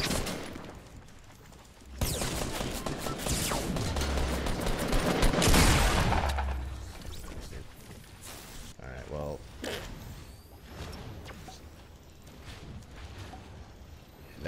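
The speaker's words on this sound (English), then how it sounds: "I need to see more people use this gun." Burst rifle gunfire rattles through a Fortnite match in short, rapid volleys amid loud game effects and mechanical clatter, a sustained heavy stretch around the middle, with no speech.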